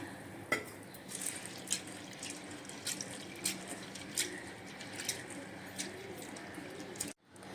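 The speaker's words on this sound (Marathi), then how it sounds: "डाळ पाण्याने दोन वेळा स्वच्छ चांगली धुवून घेतलेली आहे" Water sloshes and drips softly as lentils are rinsed by hand, with irregular splashes and light clinks in a quiet room.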